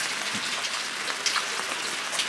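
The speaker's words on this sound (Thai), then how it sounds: "เป็นครัวแบบโอเพนท่ามกลางฝนตกเลยนะครับ" Steady rain falling around an open-air outdoor kitchen, a continuous dense patter of drops on surfaces, close and even throughout with no voices.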